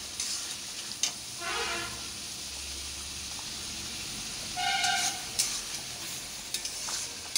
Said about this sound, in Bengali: পেঁয়াজটা ভালো করে ভেজে নেবো লাল লাল। রসুন বাটা, আদা বাটা দিয়ে ভালো করে লেড়ে নেব।